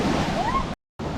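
Ocean waves breaking on the shore along an east coast bike path in Busan, a steady broadband wash of surf with wind, cut by a brief silent gap before the rush resumes.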